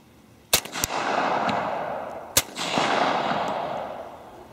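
Two suppressed shots from a Glock 30 .45 pistol with a YHM Cobra M2 suppressor and a threaded barrel, firing Underwood +P rounds. Each gives a sharp crack followed by a long, fading wash of noise, about two seconds apart.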